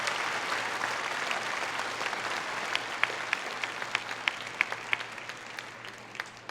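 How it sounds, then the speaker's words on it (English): An audience at a community college commencement ceremony applauds, a steady wash of many hands clapping at a distance, with a few sharper nearby claps standing out toward the end. "Please give him a round of applause."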